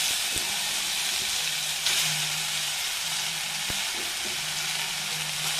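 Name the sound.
ridge gourd pieces frying in oil in a pan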